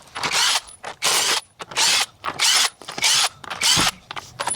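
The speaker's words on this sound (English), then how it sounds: "So we'll go ahead and get these sway bar end links off" Sway bar end links being loosened with a ratchet under a vehicle, heard as seven or eight loud, close bursts of fast mechanical clicking, each lasting about half a second with brief pauses between, and no talk.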